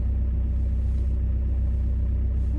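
A car drives along with a steady low engine rumble and road noise from inside the cabin, constant and unchanging, with no voices.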